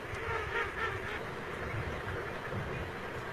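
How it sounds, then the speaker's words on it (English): Pintail ducks quack in a wetland, a steady mass of calls blending into a dense, continuous chorus with no talking. "Like these elegant pintails."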